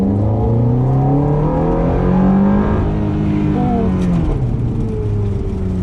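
A 2007 Ferrari F430 engine revving hard while accelerating, loud and close from inside, with the pitch climbing through gear changes and rising again.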